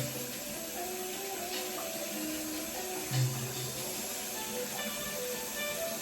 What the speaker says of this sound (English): I'm going to rinse this with some warm water.